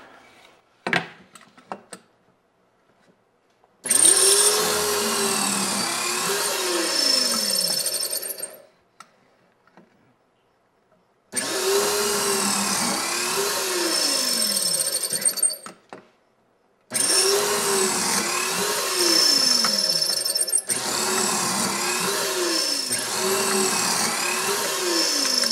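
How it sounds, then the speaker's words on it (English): A power drill boring pocket holes in wood for wainscoting panels, in four loud sustained runs separated by short silences. The whining motor pitch sweeps up and down as the bit bites into the wood. "Let me jump down here real quick and drill these pocket holes."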